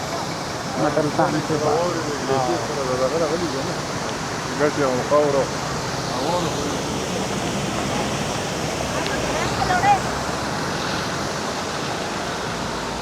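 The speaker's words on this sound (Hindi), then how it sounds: "ये पिघले हुआ पानी है ग्लेशियर का" Glacier meltwater stream rushing steadily near a mountain road toward Mahodand Lake in Swat, a loud continuous roar of water with someone talking over it.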